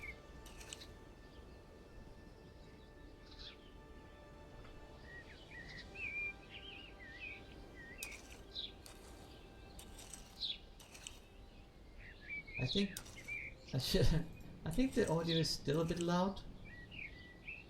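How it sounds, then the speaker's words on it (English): Ambient birdsong from the Wurm Online game world: scattered chirps and tweets that come faint at first, then grow busier and louder toward the end, with a person speaking over them. "it's the birds that are loud mostly"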